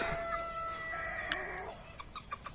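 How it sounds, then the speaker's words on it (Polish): A young rooster, likely a green-legged hen breed, gives a short, near, strained crow followed by a few softer clucks and calls, with no talking. "pierwszy odważny kogucik"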